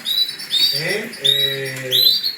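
Small birds chirp and tweet in quick bright bursts close by, with a low cooing or humming tone underneath midway.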